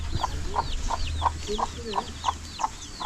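Repeated short clucking calls from chickens at a steady rhythm, about nine in three seconds, over a low hum and faint background chatter.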